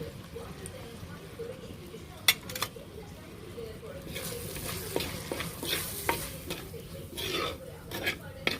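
Spices including turmeric powder fry in hot oil in a pan for a fish curry, with a soft continuous sizzle and clinking, scraping stirs from a utensil. A voice talks over it at times.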